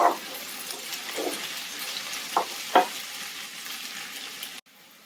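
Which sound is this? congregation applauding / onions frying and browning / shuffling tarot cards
onions frying and browning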